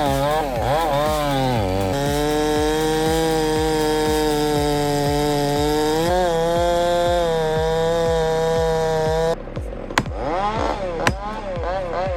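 A chainsaw roars loudly and continuously while cutting a tree, its engine pitch rising and falling as it bites into wood, then dropping briefly before revving again.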